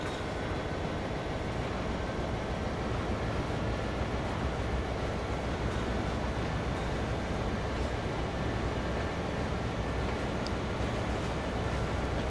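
An SD40-2 diesel locomotive hauling a long freight train in Train Sim World 4, a steady low rumble and rolling clatter that stays even and moderately loud throughout with no talk.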